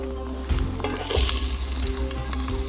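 Chopped onion hitting hot oil in a pan for a soup, a loud bright sizzle that jumps up at the half-second mark and swells again near one second, then settles into a steady crackling fry with no voices.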